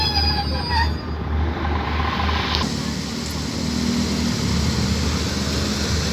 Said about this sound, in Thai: ขบวนรถด่วนขบวนที่ 85 ครับออกจากสถานีรถไฟ สารยาแล้วนะครับ